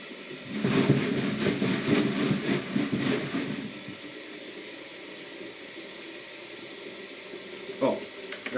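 Tap water gushes into a bucket to rinse fired brass casings, a steady close rush for a few seconds before cutting off, leaving quiet room tone and a brief clatter.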